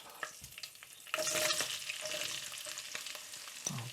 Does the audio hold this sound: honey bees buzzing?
no